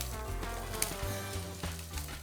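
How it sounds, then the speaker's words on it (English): Onions and ginger fry in a pan with a bright, continuous sizzle, close and moderately loud, broken by a few soft clinks and stirring sounds. "the onions and ginger are frying away"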